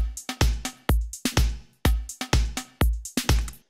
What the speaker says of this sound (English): it's just a Italian disco drum loop